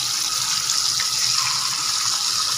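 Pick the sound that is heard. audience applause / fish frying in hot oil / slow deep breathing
fish frying in hot oil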